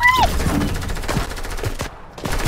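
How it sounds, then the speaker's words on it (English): Rapid gunfire from a battle-royale style video game, a dense burst of shots with a sharp tone at the start, loud and continuous under excited gameplay voices. "I'm being shot!"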